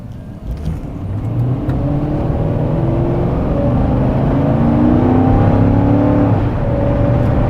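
A Mercury Grand Marquis pulls hard in first gear up to about 4,500 rpm, its engine note climbing steadily in pitch as a loud, close, continuous acceleration from inside the car.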